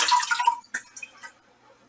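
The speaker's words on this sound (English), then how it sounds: "I'm going to rinse the top off." Water splashes and runs briefly as the top of a cooking pot is rinsed in a kitchen, a short close burst of spray followed by a few faint drips.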